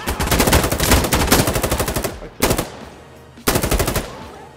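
Automatic gunfire in the video game Insurgency: Sandstorm: a long loud burst of rapid shots, then two separate short bursts after brief pauses, close and harsh.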